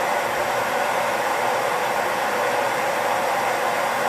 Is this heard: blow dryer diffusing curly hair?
yes